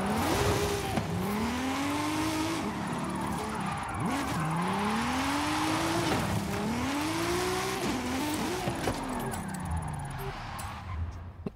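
A rally car racing in the Forza Horizon 5 video game, its engine revving up and shifting in repeated rising sweeps over loud continuous tire and gravel noise, steady and close throughout.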